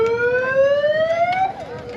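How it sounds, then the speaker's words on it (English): A siren at the start of a motorcycle enduro race rises steadily in a single loud, wailing sweep over low background rumble, then drops off sharply. "I'm just going to give you a demo of what the siren sounds like."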